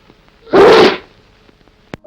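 One strong, close sneeze erupts in a half-second burst, followed by quiet with a faint click afterward.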